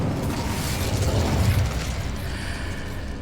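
An Incendio fire spell cast in Hogwarts Legacy erupts as a loud, dense burst of roaring, crackling flame that holds steady for a few seconds, close and alone.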